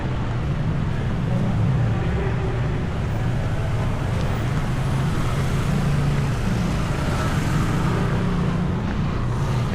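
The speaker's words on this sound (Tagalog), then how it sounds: "Grabe yung traffic dito sa side na ito." Heavy city street traffic on 7th Avenue in BGC, recorded while running, makes a steady close roadway rumble of engines mixed with wind buffeting the microphone, and a voice talks now and then.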